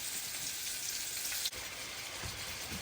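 Hamburger steak patties searing in a hot pan give a steady, close, loud sizzle that holds evenly throughout, with a brief dip near the middle and no one talking.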